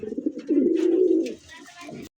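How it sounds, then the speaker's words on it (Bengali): A white pigeon coos loudly and close by in a sustained throaty call lasting about a second, followed by softer fainter murmurs. "দর্শক দেখতে পাচ্ছেন স্ক্রিনে একটা হোয়াইট কালার মতো কবুতর"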